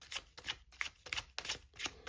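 A deck of tarot cards is shuffled in a quick riffling rhythm of soft, papery flicks, close and fairly quiet, with no voices.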